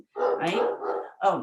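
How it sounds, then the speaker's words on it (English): A Belgian Malinois barks indoors in two close, loud bursts, the first longer and drawn out, the second short, while a person talks. "that's my dog."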